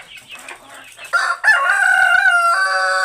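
Pahari hill chickens on a farm: a few short clucks, then a rooster's loud, drawn-out crow close by, strong and sustained to the end.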